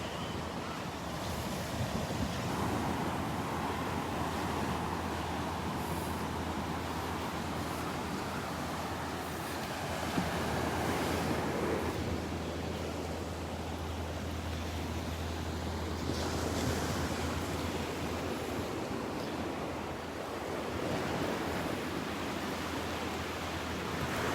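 Surf washing onto the beach at Delnor-Wiggins during a morning walk, a steady broadband roar of waves with wind buffeting the microphone, continuous and fairly loud throughout with no talk.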